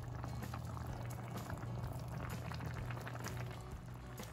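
Black bean sarciado sauce simmering and bubbling steadily in a pan as fried fish is added, a faint, continuous low burble with no talk.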